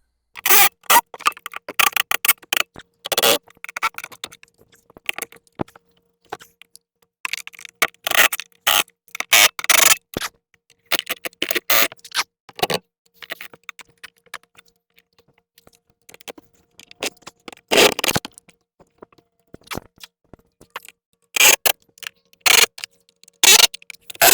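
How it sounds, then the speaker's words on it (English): Bolts being tightened on a Gorilla Cart heavy-duty 1200 lb dump cart during assembly: irregular bursts of sharp clicking and ratcheting scrapes, close and crisp, with short silent gaps between them. "I'm just going to tighten them all up now and make sure this thing is secure."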